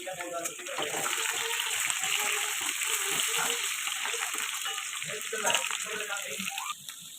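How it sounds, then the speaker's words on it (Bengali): Potatoes fry in hot oil with a steady, close sizzling crackle that runs throughout, with faint voices in the background. "তেল গরম হয়ে গেছে, আলুটা দেওয়ার পরে আলুটা লাল লাল করে ভাজা করবে।"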